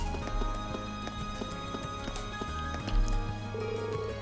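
Horse hooves clip-clop in a steady, close rhythm by the stables in the video game Trails of Cold Steel, layered over game music with no talk.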